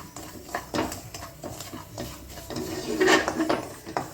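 Semolina stirred in a pan of hot ghee, with repeated scraping strokes of a spoon against the metal and light clatter, fairly close and without talk.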